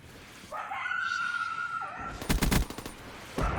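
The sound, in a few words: zombie dogs from Call of Duty Cold War zombies video game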